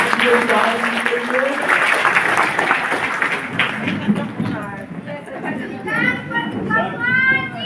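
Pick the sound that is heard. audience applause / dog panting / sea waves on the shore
audience applause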